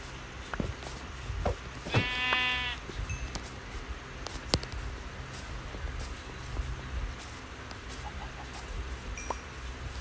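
Sheep bleating in the Minecraft video game, one clear bleat standing out over steady game background noise, with a few faint clicks around it.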